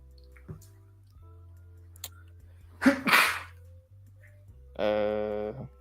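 A single sharp sneeze bursts out close by amid quiet room sounds, followed moments later by a brief voice.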